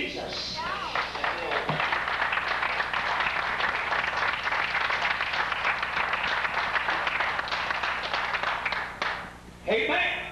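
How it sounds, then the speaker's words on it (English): A church congregation breaks into sustained, dense hand clapping for several seconds, loud and steady, with voices calling out over it before it fades and speech resumes. "Give the Lord a hand clap."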